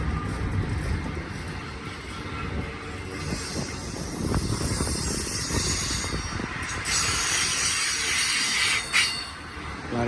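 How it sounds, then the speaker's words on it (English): An eastbound freight train with stack cars and refrigerator units rolls through Blue Cut at Cajon Pass, a loud, steady rumble of passing cars with wheels squealing sharply throughout. "A lot of interesting pieces on this train."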